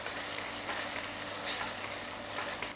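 Softened tomatoes sizzle and bubble steadily in a pan on the stove, a soft continuous hiss with no talking.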